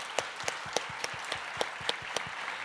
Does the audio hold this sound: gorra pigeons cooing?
no